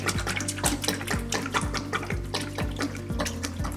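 Standard 32 weight oil pours into the tank of a polyurea pump in a steady liquid stream, with a gurgling splash and a low rhythmic pulsing under it.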